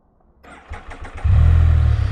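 A 2020 Can-Am Spyder's starter cranks with a few rapid whirring pulses, then the engine catches and settles into a loud, close, steady idle rumble.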